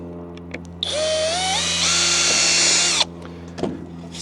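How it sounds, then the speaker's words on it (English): A power drill with a 7/64 bit pre-drilling a composite rail whines loudly for about two seconds, its pitch rising and then holding steady before it cuts off. "you take a, I think this is 7/64 drill bit, pre-drill the center"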